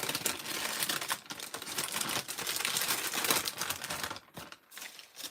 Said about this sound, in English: And this one is typewriting paper.